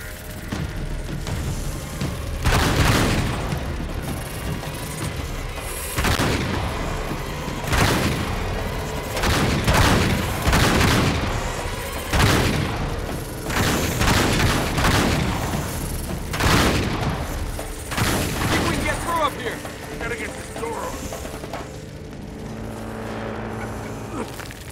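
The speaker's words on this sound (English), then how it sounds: "Keep shooting." Loud, rapid gunfire and heavy explosions from a firefight in the video game Uncharted 3: Drake's Deception, coming in repeated bursts of booming blasts over a steady battle din for about twenty-five seconds.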